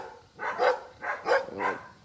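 Dogs barking outdoors near a parked truck, three quick rough bursts in a row, fairly close and alone without talk.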